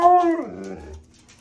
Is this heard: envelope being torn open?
no